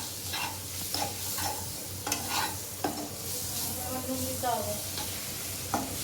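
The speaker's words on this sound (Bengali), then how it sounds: "এবার এটাকে দিয়ে একটু নেড়ে ছেড়ে নেওয়া হবে।" Spices with turmeric and Kashmiri chilli powder are stirred in hot oil: repeated scraping strokes of a spoon against the pan over a steady soft sizzle, close and moderately loud, with no talk.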